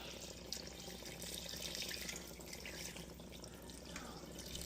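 Water from a tap runs into a pot of pastele stew, a faint, steady splashing hiss that carries on without a break in a quiet kitchen, with no voices.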